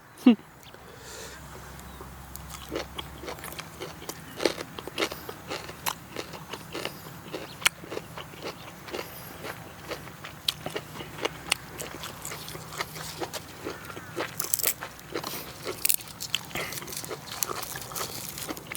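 Blanched beef intestine is chewed outdoors in a rice field, giving crisp, close crunching clicks scattered irregularly throughout, with voices murmuring in the background.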